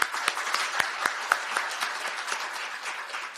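An audience at a talk concert on press freedom applauds, a moderately loud, even patter of many hands with a few sharper claps standing out, lasting a few seconds.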